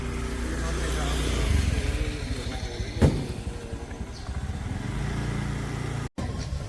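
A rented scooter pulls away on a road in Phu Quoc, Vietnam, its small engine humming and rising in pitch close by, with a short bump of noise partway through and a brief dropout near the end.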